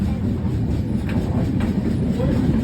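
Local train running, heard from inside a compartment: a steady low rumble and rattle of the carriage with faint wheel noise, continuous and fairly loud.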